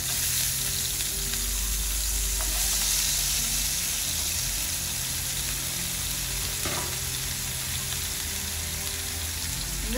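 Small-cut potato pieces fry in a pan for a potato cauliflower gravy, giving a dense, even, rain-like sizzle that holds steady for the whole stretch, close and loud, with no voices.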